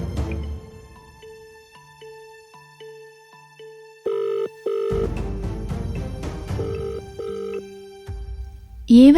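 A telephone rings repeatedly with evenly spaced electronic tones and goes unanswered, followed by a sudden burst of louder mixed tones and noise near the end.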